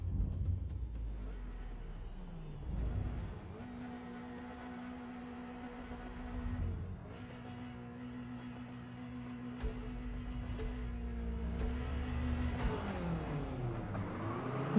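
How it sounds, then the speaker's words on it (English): Race cars in an online race in the video game Forza Motorsport, engines revving and shifting up through the gears with steady throttle, moderately loud with no talking over it. "Welcome to online racing on Forza Motorsport."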